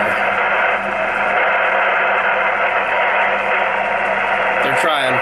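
An amateur radio receiver tuned during CQ calls gives a loud, steady wash of static hiss and noise throughout, with indistinct voices buried in it and a brief burst of tuning chirps near the end.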